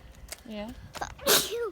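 One loud, close sneeze bursts out near the end of a short stretch of casual talk during a cave hike.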